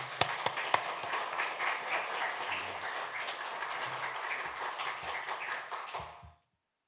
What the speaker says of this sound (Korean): 우리 다 같이 할렐루야 하는 마음으로 박수로 환영하겠습니다